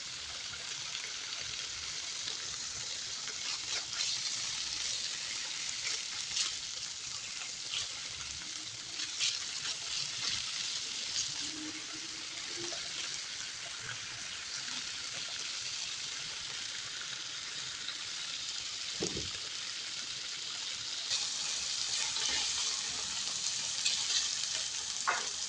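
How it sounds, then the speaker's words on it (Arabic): Chicken pieces and garlic fry in hot oil in a pan, giving a steady, close crackling sizzle that runs the whole time with small pops and occasional stirring scrapes, and no talk over it. "وبعد ما خليت الزيت يتغلى ضفت الدجاج ونزيد نضيف لهم الثوم"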